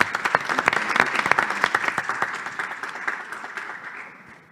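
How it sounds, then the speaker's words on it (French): An audience at an e-tourism pitch challenge applauds loudly for about four seconds, dense clapping that gradually thins and fades out. "Et on peut l'applaudir également."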